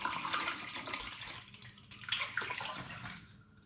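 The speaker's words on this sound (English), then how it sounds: "So I'm going to get the spring water in." Spring water poured from a 2 litre bottle into a cider demijohn, a gurgling, splashing stream that swells and fades in uneven glugs, close and alone.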